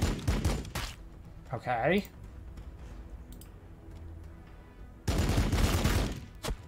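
Gunfire in the Warhammer 40,000: Battlesector strategy game, heavy bursts of rapid shots at the start and again near the end, loud and close, with a swooping effect between and a short spoken word.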